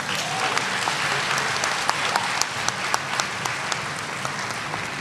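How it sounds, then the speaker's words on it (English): A large audience at the UAPB Black History Program applauds in a dense, steady wash of clapping, with a few sharper individual claps standing out over five seconds. "Give them another round of applause."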